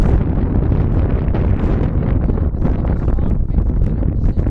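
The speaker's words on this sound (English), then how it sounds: "It got pretty loud here with the wind" Strong wind gusts buffet the microphone outdoors as a loud, continuous low rumble with rough, fluttering roar and no pauses throughout.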